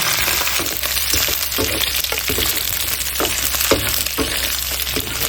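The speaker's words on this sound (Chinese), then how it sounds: "炒下以后，把鸡肉下进来" Chicken pieces stir-frying in a hot wok with Sichuan peppercorns, star anise and garlic, giving a steady close sizzle broken by the regular scrape and toss of a spatula.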